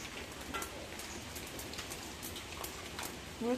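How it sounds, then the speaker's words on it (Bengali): Steady rainfall pattering on surfaces, a continuous even hiss with scattered drop hits, no speech, a faint brief voice-like sound at the very end. "বৃষ্টি কেমন পড়তেছে, বাজার থেকে বাইরে এসে বৃষ্টি শুরু হয়েছে।"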